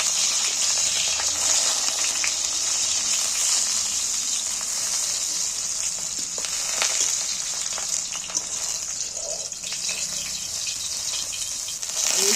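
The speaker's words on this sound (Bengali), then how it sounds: "দুপুর করে ভালো করে ভেজে এইবার চিংড়ি আমি তুলে নেব" Prawns frying in oil in a pan give off a steady, loud, close sizzle, a dense hiss that carries on without pause and with no voices over it.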